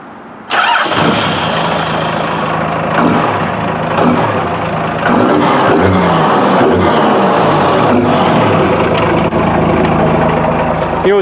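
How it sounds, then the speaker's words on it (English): A Dodge Cummins diesel truck engine cranks and fires, then idles and revs in loud surges with a rough, clattering rumble, close by, with voices faintly mixed in. "it's good to rev it like that without any oil pressure because it really gets the turbo going good"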